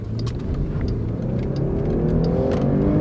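A V6 all-wheel-drive car with an automatic transmission accelerates on an open road in light morning traffic, its engine drone rising steadily and evenly from inside the cabin.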